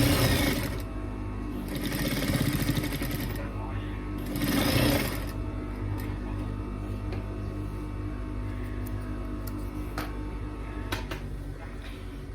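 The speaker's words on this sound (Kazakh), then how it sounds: "соны барып тігіп жібереміз." A sewing machine stitches fabric in two loud rapid bursts of mechanical chatter, then runs more softly with ticking and clicks while a person talks nearby.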